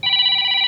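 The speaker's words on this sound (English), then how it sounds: "I muted my phone and it's ringing." A mobile phone rings with a steady electronic tone, close and clear, lasting under a second with no talk.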